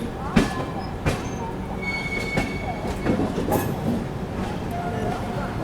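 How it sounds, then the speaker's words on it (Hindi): The Tamil Nadu Superfast Express rolls into Itarsi Junction with rumbling wheels, periodic clanks of carriages over rail joints and faint squealing, heard close and steady with some background voices. "चलिए अपनी तमिलनाडु एक्सप्रेस अराइव कर रही है इटारसी जंक्शन पे।"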